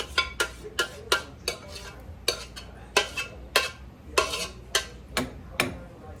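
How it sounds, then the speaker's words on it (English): A spoon stirs bacon mac and cheese in a metal pot, giving a regular run of about fifteen sharp scraping clinks against the pot, close and clear, with no voices. "Stir it up in here, get it all distributed out nice and even."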